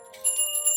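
A Salvation Army red kettle hand bell gives a short bright ring, a quick metallic chime that sounds alone and fairly close.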